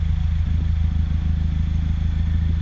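An R56 Mini Cooper S engine idles at full operating temperature, a close, steady low rumble with a rapid regular pulsing beat and light mechanical clatter, with no voices.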